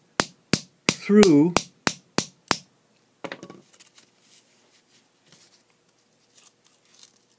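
A hammer taps a shotgun shell about a quarter inch from its brass head, giving roughly eight sharp, close, evenly spaced knocks over two and a half seconds, with a brief voice mixed in, followed by faint scattered rustling.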